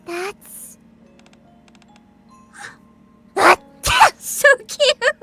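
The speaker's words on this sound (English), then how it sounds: "The sound of Rum's sneeze resonates up towards the blue sky." A voice actor performs a big, exaggerated sneeze, a sharp burst near the middle followed by short breathy vocal sounds, with speech around it.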